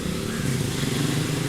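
A motorcycle engine drones steadily nearby, a low rumbling hum that holds for a moment as it goes by.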